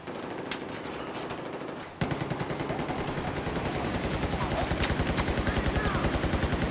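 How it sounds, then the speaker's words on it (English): Rapid automatic gunfire in the video game Battlefield 4, steady fast bursts of shots that grow louder and closer partway through, with distant shots before. "Who's shooting?"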